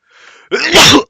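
A single sharp sneeze, preceded by a brief soft intake of breath, close and loud.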